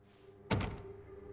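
A single dull thunk of a locked door rattling but refusing to open in the horror game The Park, one short knock over a quiet background hum.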